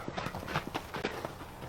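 Several horses clip-clopping on their hooves near a closed gate, a steady uneven run of hoof knocks filling the whole moment, fairly close, with no talking.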